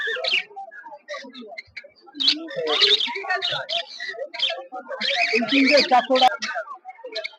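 Java sparrows at a bird market in Uluberia chirp and twitter in quick, overlapping bursts, fairly close and busy, with a voice speaking beneath the calls.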